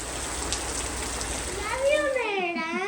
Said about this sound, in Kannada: ನೋಡಿ ಗೈಸ್ ಯಾವ ಥರ ಮಳೆ ಬರ್ತದೆ ಅಂತ